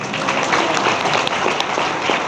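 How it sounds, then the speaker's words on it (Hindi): A congregation claps loudly and steadily throughout at a gospel church service, a dense, continuous wash of applause filling the room with no voices standing out. "जोरदार ताली बजाइए।"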